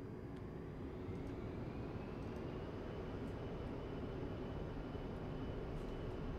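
An A-10C Warthog jet takes off in the DCS World flight game at night, a steady, muted engine drone with faint ticks above it and no voices heard.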